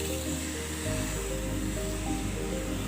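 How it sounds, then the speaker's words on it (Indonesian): Hand sprayer misting liquid fertilizer onto plants, a steady close broadband hiss of fine spray running continuously, with a low hum underneath. "semprot kabut begini saja"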